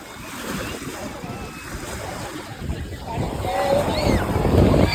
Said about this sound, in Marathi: तर खूप भारी लाटा येतात ते.